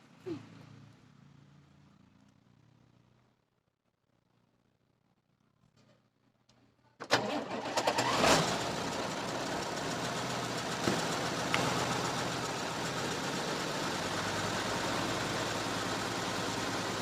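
A truck engine starts abruptly after a quiet stretch with faint background sounds and a door-like knock, then settles into a steady, loud idle that runs to the end.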